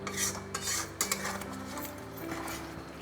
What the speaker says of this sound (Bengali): এই যে এটা খুব করে আবারও নেড়ে দিলাম একটু খুব সাবধানে